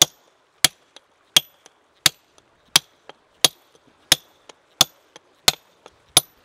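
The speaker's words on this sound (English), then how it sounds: "so I think get down a bit with a chisel if I can" A chisel struck with a hammer against rock around a Cretaceous reptile fossil: sharp, close metallic taps in a steady rhythm of about ten main blows, each followed by a lighter tap, with no talking.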